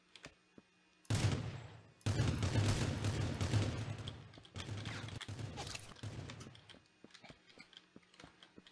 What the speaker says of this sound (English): I don't know if he's shooting at me or if he's shooting at a bot.